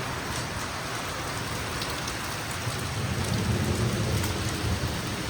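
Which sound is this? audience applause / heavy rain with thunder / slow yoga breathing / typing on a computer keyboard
heavy rain with thunder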